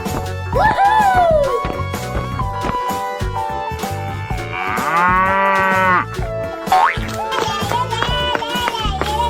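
A cow moos in a kids' animal-sound sequence: several loud, drawn-out calls heard among music and other effects, with no talking over it.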